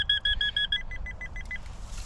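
A faulty handheld metal detector pinpointer beeps in a rapid series of evenly spaced, sharp electronic tones, close and clear, that falter and fade toward the end against quiet outdoor background.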